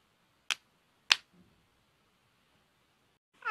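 A children's song brings two sharp, isolated hand claps about half a second apart, then a long near-silent gap before a third clap begins at the very end. The claps sound bright and close against a quiet background.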